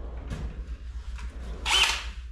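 A power sander starts up during a house teardown, a short loud burst of broadband whirring near the end after a quieter stretch with faint clatter.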